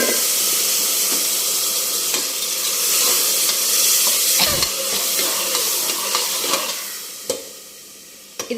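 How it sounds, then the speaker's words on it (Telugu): Peanuts, green chillies, chana dal, curry leaves and seasoning spices frying in hot oil: a steady sizzle with scattered crackles and stirring scrapes, close and continuous with no talking. "పల్లీలు, పచ్చిమిర్చి, శనగపప్పు, పోపు దినుసులు, అలాగే కొంచెం కరివేపాకు అలా ఇవి వేగిన తర్వాత"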